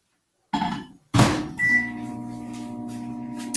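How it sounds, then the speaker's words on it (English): Microwave oven door thunks open and shut close by while butter goes back in to reheat, followed by a few seconds of the oven's steady low hum with a brief beep-like tone near the start of it. "we're gonna pop it back in the microwave"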